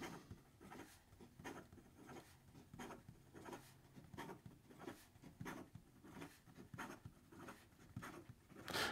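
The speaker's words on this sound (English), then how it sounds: "And then in regard to some fast writing," A fountain pen with an extra fine nib writes fast on paper, giving quiet, close scratches in a quick, regular rhythm of short strokes.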